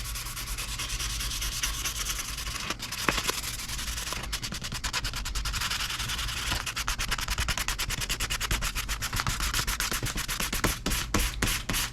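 A white ash guitar body is hand sanded with 1000 grit sandpaper, a steady close rubbing hiss broken by quicker back-and-forth strokes, with no voices.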